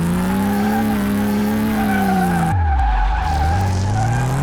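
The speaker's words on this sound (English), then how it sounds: "We're just smoking the tires for days right now" Tires on a Porsche 911 S Turbo 964 squeal steadily in a driving game, a sustained loud screech over engine drone that drops into a lower, shifting whine as the car slides and recovers.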